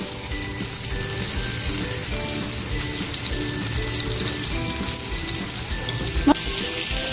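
Fish coated in rice flour fries in a pan, a steady close crackling sizzle with dense oil popping throughout, one sharper pop near the end.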